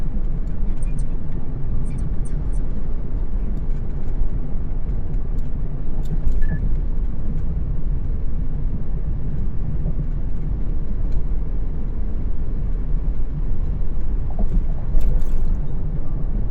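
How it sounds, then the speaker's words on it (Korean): A 1.2-ton extra-long-wheelbase wing-body truck cruises the Sejong–Pocheon expressway at about 100 km/h, its cabin filled with a steady, loud roar of engine and road noise that runs unbroken throughout. "평균 시속 100km 단속 구간 주행 중입니다"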